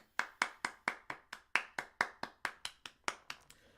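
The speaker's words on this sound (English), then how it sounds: "Get round of applause one time" About fifteen crisp single hand claps ring out in a steady, even rhythm at close range, quiet and isolated with no crowd or talk, given as a round of applause for stadium security at a marble racing league event.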